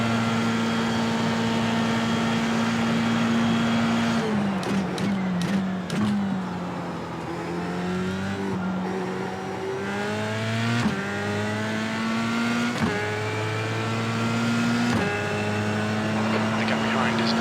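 A Dallara F3 race car lapping Suzuka in iRacing, its engine a loud steady whine that drops and climbs through repeated downshifts and upshifts, someone talking over it throughout.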